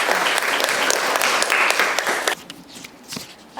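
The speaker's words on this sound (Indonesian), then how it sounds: "Kita kasih aplaus" An audience at a school teachers' group presentation claps briskly for about two seconds, then the applause tapers off to a few scattered claps.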